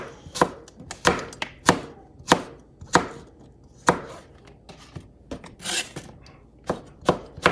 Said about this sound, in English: so I will slice them relatively thin